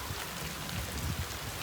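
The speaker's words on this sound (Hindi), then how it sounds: "बारिश हो गई जी हमारे पास, तेज़ मूसलाधार बारिश टाइप," A thick, steady wash of pouring rain fills the short clip, loud and close, with no gaps or voices.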